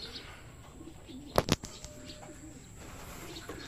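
Racing pigeons released during a club training toss in Teresa, Rizal, with a quick burst of two loud wing flaps near the start, then faint flutter and quiet outdoor background.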